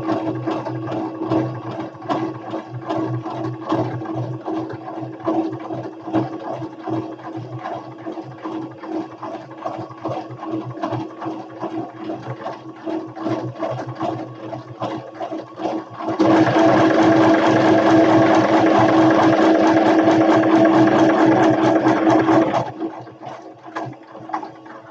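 A sewing machine stitches a buttonhole in satin with a steady, fast mechanical whirr that swells noticeably louder for several seconds near the end before easing back. No one speaks.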